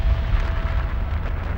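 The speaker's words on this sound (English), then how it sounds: "At this moment, the Big Bang's pure energy is released." A deep, booming explosion effect representing the Big Bang releasing pure energy, a loud sustained rumble heavy in low bass that rolls on steadily for its full length with no speech.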